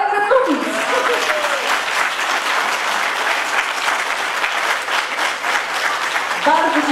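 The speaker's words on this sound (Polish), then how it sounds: "Brawa dla pań ze Strzelec Opolski." Audience applause at a WOŚP Grand Finale charity concert in Strzelce Opolskie, a steady, dense clapping crowd sustained throughout, with a few brief voices at the start and end.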